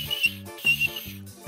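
A voice imitates a night-watch patrol whistle with short piercing toots in a repeating two-beat pattern, performed by a comedian in a stage routine.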